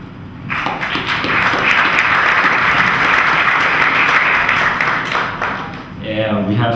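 An audience at a Boys Republic town hall applauds graduating award winners, with dense clapping that swells in, holds steady, then fades as a voice begins speaking.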